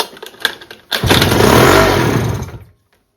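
A few sputters and clicks, then a two-stroke outboard motor with no petrol, primed with spray in the intake, fires and roars loudly for over a second before dying away abruptly.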